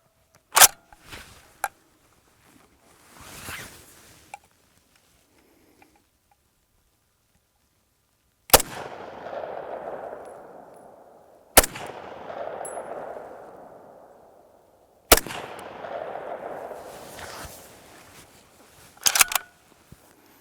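A Soviet SVT-40 rifle converted to .303 British fires four sharp, loud single shots a few seconds apart, each followed by a rolling echo, with quieter handling clicks between them.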